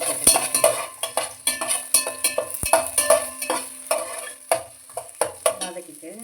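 Cinnamon and bay leaf frying in hot oil, with sharp spatula clanks and scrapes against the pan over a light sizzle, close and busy, no voices.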